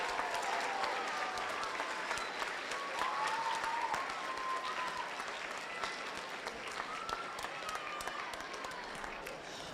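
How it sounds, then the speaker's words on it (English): Sustained applause from a large crowd at a FIRST LEGO League state robotics tournament in Arizona, dense steady clapping filling the hall for several seconds without pause. "How about a huge round of applause"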